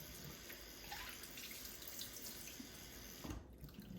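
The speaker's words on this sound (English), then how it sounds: "You can just allow the water to pour over your wig or topper" Water from a tap pours steadily over a wig being rinsed, a continuous close splashing and trickling that briefly changes near the end.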